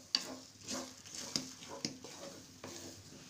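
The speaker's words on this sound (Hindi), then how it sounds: "बराबर चलाते हुए भूनेंगे" Moong dal being stirred while it roasts in a pan over a high flame: quiet, irregular scraping and clinking strokes with a faint dry sizzle beneath.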